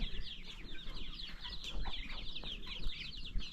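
Chickens cluck and chatter in a continuous busy stream close by, several birds overlapping with brief louder squawks amid a low outdoor rumble.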